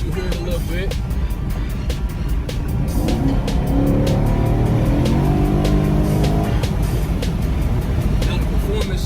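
A 2019 Chevrolet Camaro SS on its stock exhaust revs loudly and steadily close by, the engine note rising as it slides with tire squeal, while someone talks over it.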